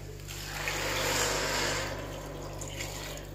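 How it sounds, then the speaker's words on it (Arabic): Water poured into a pan of sautéing orzo pasta with vegetables gives a steady hissing, bubbling rush that swells in the middle and eases off, close and fairly quiet with no talk. "هنزل عليه بقى ايه بالميه"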